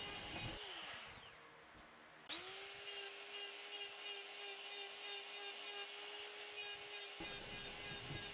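A carbide bit held against wood spinning on a lathe, giving a steady whining, buzzing drone that starts and stops, lasts several seconds and is close and fairly quiet.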